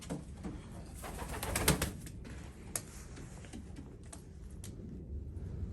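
Racing pigeons in a loft coo softly and steadily, a quiet, fairly close murmur of bird calls with scattered light ticks and scuffs and no talking.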